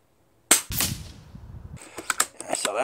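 A single sharp report from an Uragan compact PCP bullpup air rifle firing a pellet, loud and close, followed by a short decaying tail and then a voice speaking.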